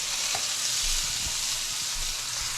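Meat searing in a pan and being basted in melting butter, a dense steady frying hiss with faint low thumps of handling, close and without speech.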